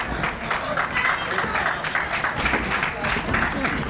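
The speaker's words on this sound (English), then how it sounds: "Crowd appreciating that move" A live independent pro wrestling crowd at a 2002 IHPW match applauds after a whip-off move. Steady, dense clapping and crowd noise fill the arena throughout, with commentators' voices faintly underneath.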